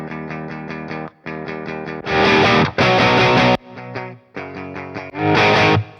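Electric guitar played through an Ampbox Spark amp in JCM800 mode on the low-sensitivity input, short chord phrases alternating with louder, brighter distorted bursts, several separate strums and held chords.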